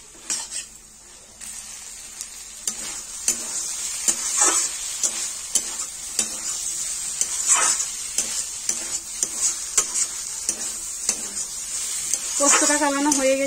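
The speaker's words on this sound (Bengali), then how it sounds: "পোস্তটাকে ভালো মতো কালিয়ে নেব।" Poppy seeds are stirred and roasted in a kadai for ivy gourd and potato posto: a spatula scrapes in repeated strokes against the pan over a constant dry sizzle, growing busier and louder toward the end.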